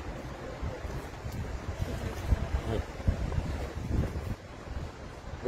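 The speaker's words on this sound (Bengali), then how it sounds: "এরপরে এখানে বাতাস আছে" Cold wind blows outdoors near a bus terminal after rain, buffeting the microphone in uneven gusts with a low, rumbling roar.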